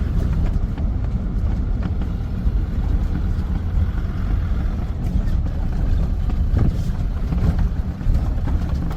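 Wind gusting across open veld at a game farm on a cold, windy May day, a steady loud rumbling roar with low buffeting on the microphone that persists throughout.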